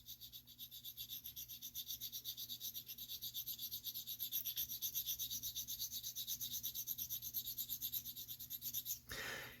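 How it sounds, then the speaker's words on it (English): A sharpening stone rubs back and forth across a metal firearm component during polishing, a quick steady rasping stroke repeating many times, close and fairly quiet, stopping near the end. "And when I'm rubbing my stone across it, I can feel it catching on those burrs and those high spots."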